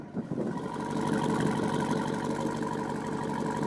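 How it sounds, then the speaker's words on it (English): The big V8 of a 2021 Jeep Wrangler Rubicon 392, recorded close to the exhaust pipes, rumbles loudly and continuously with a deep pulsing idle that builds slightly after the start. "That big engine though, you can just listen to the sound."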